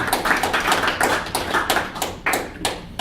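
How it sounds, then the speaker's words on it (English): An audience at a talk claps, a modest group giving scattered, uneven hand claps that are fairly close and thin out toward the end. "So give yourselves a round of applause, please."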